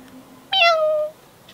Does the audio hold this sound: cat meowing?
yes